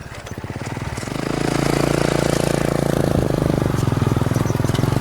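A motorcycle engine runs steadily on the interstate road between Parakou and Kabor in Benin. Its throbbing drone builds over the first second and then holds loud and close with a rapid pulsing beat.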